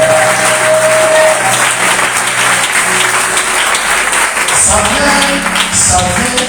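A church congregation bursts into sustained applause that fills the space throughout, with voices calling out over the clapping.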